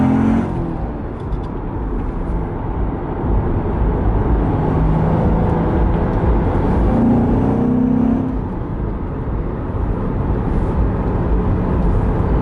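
A car with a seven-speed manual transmission cruises in fifth gear, its engine drone and road roar filling the cabin steadily with a slight swell in pitch midway and no talk.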